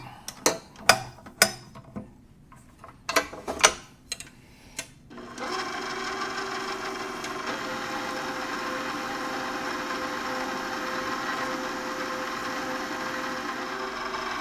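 A stand mixer fitted with its paddle attachment starts up after a few knocks and clatters, then runs at a steady motor drone for the rest of the time, mixing cinnamon roll dough.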